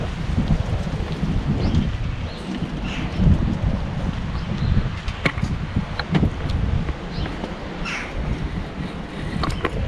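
Wind blows steadily and loudly through a garden near a patio, a broad rushing gust sound with scattered faint clicks, heard alone without talk.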